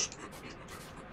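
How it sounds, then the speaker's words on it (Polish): A robot dog digging in the ReCore video game gives a steady, scratchy rustle that sits close and fairly even for just over a second, with no talking over it. "kopaj piesku"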